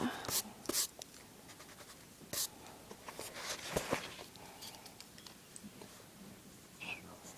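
Pencil or pen drawing on paper sheets that are turned now and then, giving soft scratchy strokes and a few sharp rustles, close and quiet, with faint whispering in the background.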